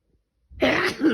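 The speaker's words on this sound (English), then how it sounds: "sorry, sneezing" One short, close sneeze or sneeze-like burst from a woman, abrupt and loud after near silence.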